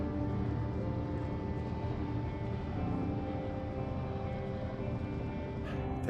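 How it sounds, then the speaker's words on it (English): Helicopter arriving in the Firewatch video game, a steady, loud mechanical drone with dense low rumble that holds at constant level throughout, with no voices over it. "There's the helicopter."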